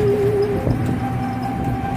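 Train pulling into Haridwar railway station in India, a steady rumbling hum with a brief high horn-like whine early on, continuous and fairly loud with station ambience.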